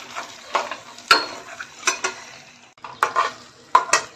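A spoon scrapes and stirs masala frying in oil in a pan, giving irregular clinks and scrapes over a soft, steady sizzle, close and fairly quiet with no talking.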